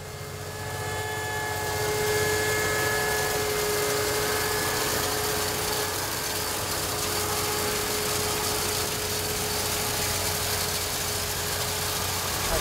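A tractor engine labours under load while hauling a heavy Sky Easy Drill HD seed drill up a slope, a steady droning hum with low rumble, continuous and close, no voices.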